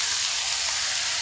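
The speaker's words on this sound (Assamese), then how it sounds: "সোনকালে কলডিল ভজা বনাওঁ।" Banana flower (kol dil) frying in a pan in an Assamese kitchen, a steady, close, even sizzle with broadband hiss throughout and no talking.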